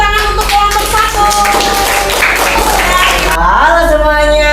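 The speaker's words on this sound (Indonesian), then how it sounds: "Kita berikan semangat dan tepuk tangan untuk kelompok 1." Classroom applause for a student group, a dense run of hand clapping mixed with voices and tonal background sound, steady and loud throughout.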